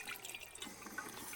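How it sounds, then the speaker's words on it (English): Water runs from a tap at a campground water station into a collapsible pot, a steady close splashing and trickling stream with no talking. "Just open up the tap like so."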